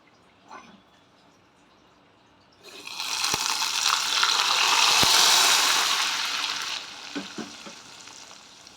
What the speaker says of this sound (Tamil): இந்த மாதிரி பொன்னிறமாக வறுத்து எடுத்துக்கோங்க.